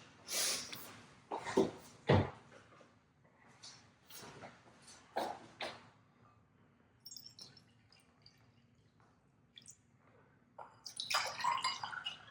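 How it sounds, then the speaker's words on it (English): Water poured in short splashing bursts into a bowl of puri dough mixture, with quiet gaps between pours and a longer, louder splash near the end. "Now we're going to add water to it."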